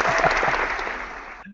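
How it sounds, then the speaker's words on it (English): Applause at the close of an online talk on designing for sustainability, a dense, even burst of clapping lasting just over a second and cutting off abruptly. "Thanks, James, for providing the applause."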